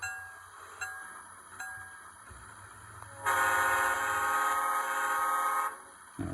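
Bell and whistle from a Kato FP-7 N-scale model locomotive with a DCC sound decoder: a few short bell strikes first, then a loud sustained whistle tone for about two seconds, alone with no talk.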